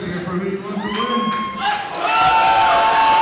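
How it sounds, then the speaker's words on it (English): Crowd cheering and shouting at an arm wrestling championship, with whoops and yells building to a loud, sustained roar by the end. "Let's hear it. Cheer for who you want to win."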